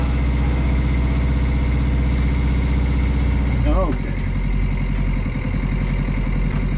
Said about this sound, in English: she stays idling